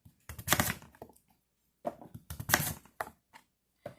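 A knife slices through raw sweet potatoes on a cutting board in a home kitchen, two clustered bursts of crisp chopping strokes separated by a pause, close and fairly quiet with no talking.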